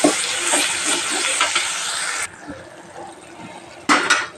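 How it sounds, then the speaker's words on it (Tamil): Coconut, tamarind and tomato paste sautés in hot oil for a garlic kuzhambu, a loud steady sizzle and hiss that drops away suddenly, then flares up briefly again near the end. "தேங்காயில் எண்ணெய் எல்லாம் வெளியே வருது, அந்த மாதிரி வதக்கணும்."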